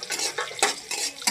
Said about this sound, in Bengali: কড়াইয়ের মধ্যে আর পেঁয়াজ ভাজি করতে আসি